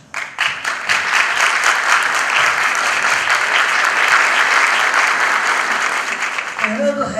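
An audience at a televised CD launch performance claps as a singer is called to the stage. The applause is steady and sustained, then trails off as a voice begins speaking at the very end.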